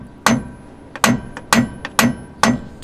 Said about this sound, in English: next what you need to do is barely tap on here